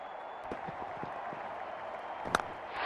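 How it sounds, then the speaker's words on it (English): Cricket stadium crowd at an India vs Australia T20 in Mohali roaring after a big shot, a continuous broad cheer with scattered claps and a sharp louder burst late on. "Crowd is going crazy."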